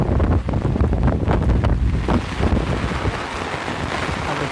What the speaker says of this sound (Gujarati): વરસાદ ભાઈ સાથે પવન છે